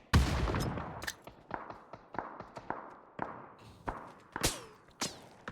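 Sharp gunshots crack out in an irregular series in PUBG on the Miramar map, a dozen or so spaced through the clip, with a heavier burst at the start and no voices.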